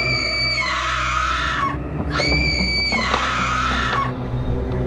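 A woman in a dramatized horror story screams loudly in two long piercing bursts with a short gap between them, set over a dark, tense backing drone.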